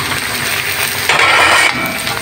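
Meat frying in a pan for laing, a steady close sizzle with faint stirring and utensil scrapes, alone without voices.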